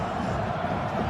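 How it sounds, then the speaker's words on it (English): A sellout stadium crowd murmurs and roars steadily at a 2008 college football game between NC State and North Carolina, a dense wash of distant noise with faint speech mixed in. "Sellout crowd on hand."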